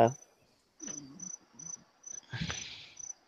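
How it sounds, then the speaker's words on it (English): Crickets heard through an open window chirp in a regular, evenly spaced rhythm in a quiet room, with a few soft low thumps and murmurs in between. "I'm hearing crickets, like literally."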